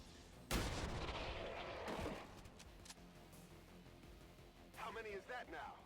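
Gunfire in the turn-based strategy game XCOM: Long War of the Chosen opens with a sharp loud shot followed by a ringing, rumbling tail, with more game effects and brief crackles trailing toward the end.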